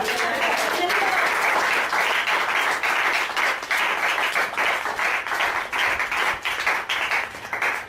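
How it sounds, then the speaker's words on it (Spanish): A church congregation breaks into sustained applause during a sermon, a dense and steady wash of many hands clapping at close range that runs the whole time, with voices faintly underneath. "¿Por qué no le hace un aplauso a Jesucristo?"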